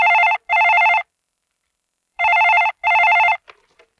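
A telephone bell rings in two pairs of loud, even electronic trills with a pause between, followed by a brief faint clatter as the call is picked up.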